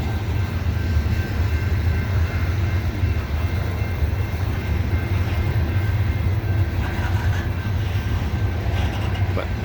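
Loaded CSX coal train crawling up Parrs Ridge, one GE Evolution locomotive offline: a continuous deep diesel rumble with steady grinding rail noise, a faint tonal whine above it, sustained throughout.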